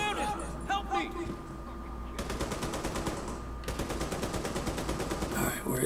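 Enemy gunfire in The Division 2 comes as rapid automatic bursts, two sustained stretches of fast repeated shots, fairly loud over a constant game background while someone talks.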